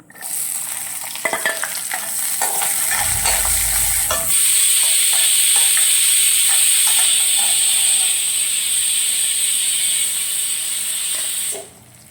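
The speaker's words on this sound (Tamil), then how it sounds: "எண்ணெய் சூடாயிடுச்சு இப்போ வெங்காயம் சேர்த்துக்கோங்க" Onions frying in hot oil for a pepper mutton liver curry give a loud, steady sizzle that runs almost the whole clip, with scraping stirring knocks and a low thump early on, then a sudden stop near the end.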